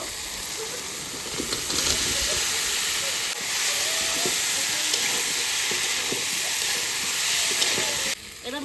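Potatoes fry in a pan with added turmeric water and salt, giving a steady, close hiss and sizzle with faint stirring clicks throughout and no voices.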